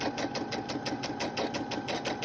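A sewing machine stitches an envelope onto a paper journal page with a fast, even run of needle strokes, loud and close, with no voices.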